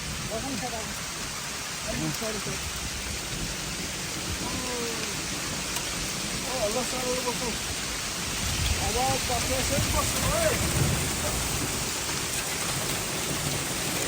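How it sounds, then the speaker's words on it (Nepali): Heavy hail and rain fall outdoors in a steady hiss, with low rumbles of thunder rolling through, loudest near the end, and voices talking faintly beneath the downpour. "यस्तो छ है हिउँ परेको जस्तो छ है असिना पनि भयो"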